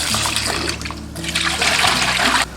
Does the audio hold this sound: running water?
yes